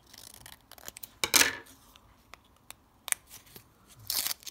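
Plastic toy collection packets being torn and opened, with sharp crinkling rips and bursts of rustling scattered among quieter handling sounds, close up with no speech.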